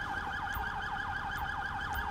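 An ambulance siren in the GTA 5 video game, a fast rising-and-falling yelp wail repeating steadily and loudly with a faint low rumble beneath, no talking.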